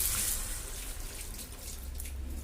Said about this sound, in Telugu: కొద్దిగా వాటర్ వేసుకోవాలి.